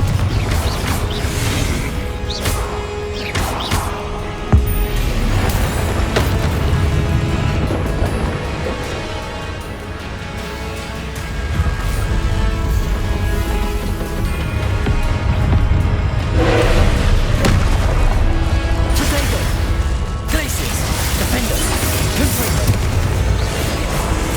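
Confringo fire blasts and Glacius freezing spells from Hogwarts Legacy crack and thud repeatedly amid battle, with loud bursts, crashes and rumbling clatter layered over a continuous busy din and some talking.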